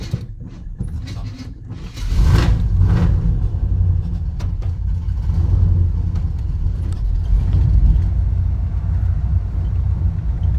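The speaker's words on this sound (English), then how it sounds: "take this truck on a drive and see how it's doing" An old 1984 Chevy Silverado pickup engine rumbles low and steady, swelling louder after a couple of seconds as the truck pulls away onto asphalt, continuous throughout.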